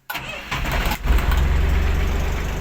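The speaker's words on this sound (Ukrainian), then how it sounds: "Трактор зараз заведу." A farm tractor with a plough attached cranks over and catches, then settles into a loud, steady rumbling idle close by.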